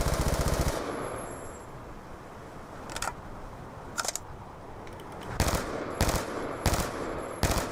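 A Type 25 rifle firing in Black Ops 2, a rapid burst at the start followed by several short, sharp bursts and single shots spaced out over a quiet background.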